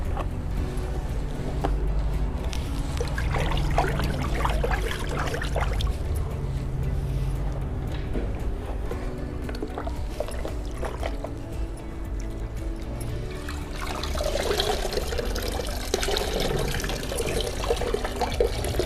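Rice water for homemade compost is strained and poured, giving a continuous liquid splash and trickle with scattered drips against a steady background wash.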